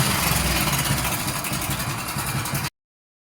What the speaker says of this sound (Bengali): এই যে একটা রেস বাড়ালে এরকম আওয়াজ করছি।